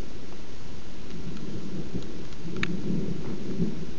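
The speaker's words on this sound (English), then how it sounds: "But for now, we're getting rain." Steady rain falling on surfaces outdoors, a dense continuous patter with a low rumble beneath and no voices.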